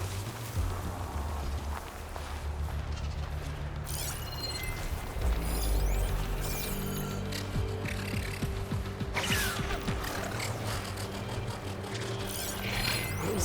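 Robotic machines in Horizon Forbidden West whir and grind, with ratcheting gear clicks, metallic creaks and clanks layered over a constant loud mechanical drone.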